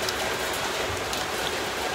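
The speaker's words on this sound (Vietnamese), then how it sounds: "Mưa dông gió lớn" Heavy rain from a thunderstorm with strong wind pours down in a dense, steady hiss. It stays loud and constant throughout, with no voices.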